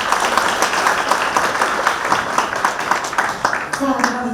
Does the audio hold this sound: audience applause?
yes